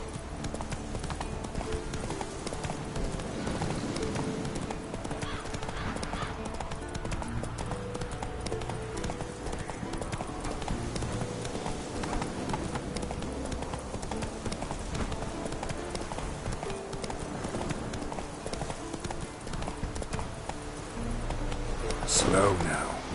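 Horse galloping in The Witcher 3 video game: steady, rapid clip-clop hoofbeats running continuously at close range amid a dense game soundscape with music, ending in a brief sharper burst.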